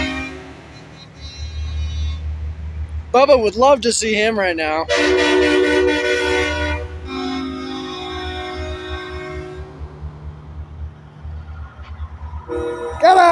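Tow truck horn honking at a truck light parade, a green wrecker among big rigs: loud warbling air-horn blasts around the middle, over a low rumbling engine, with people talking nearby and a further honk at the end.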